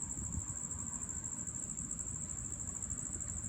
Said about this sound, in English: Sorry, the crickets.